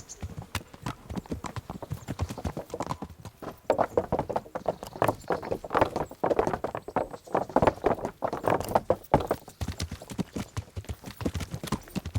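Horse hooves clip-clop at a steady walking pace in the video game Kingdom Come Deliverance, a close, continuous run of even hoof strikes lasting about twelve seconds with no talk over them.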